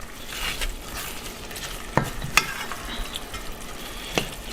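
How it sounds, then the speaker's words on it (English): Cooked bacon and onion stirred in a hot pan make a close, continuous sizzle broken by several clicks and scrapes of a utensil on the pan, with no talking. "I'm going to put in the rest of the bacon that I cooked, and that's going to go in there. And I'm going to stir that all around."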